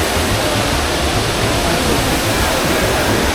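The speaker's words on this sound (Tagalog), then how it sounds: "Welcome to Trevi Fountain." Water pours continuously into the basin of the Trevi Fountain in Rome, a loud, steady rushing wash that fills the whole moment without pause.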